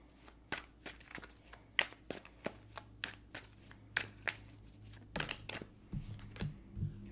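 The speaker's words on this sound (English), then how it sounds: "I almost kept shuffling." Tarot cards being shuffled by hand during a reading, a run of quick crisp riffling and slapping bursts at close range, irregular in rhythm, with no talking.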